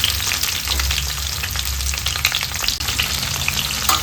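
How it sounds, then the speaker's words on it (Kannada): Bitter gourd pieces fry in about a spoonful of oil in a pan, giving a loud, dense, steady sizzle with crackles and occasional stirring scrapes, and no voices. "ಒಂದು ಪಾತ್ರೆಗೆ 1 ಚಮಚದಷ್ಟು ಎಣ್ಣೆ ಹಾಕ್ಕೊಂಡು ಕಟ್ ಮಾಡಿ ಇಟ್ಕೊಂಡ ಪೀಸನ್ನು ಸೇರಿಸ್ಕೊಳ್ಳೋಣ."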